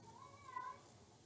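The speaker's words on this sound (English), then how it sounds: "you can hear my cat in the background." A single faint cat meow, soft and drawn out, rising briefly over quiet room noise in the background.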